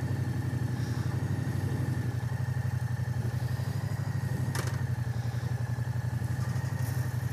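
A Moto Guzzi V100 Mandello motorcycle engine runs steadily during a dealership test ride, a continuous low throbbing drone with an even pulse, loud and close, with one brief click partway through.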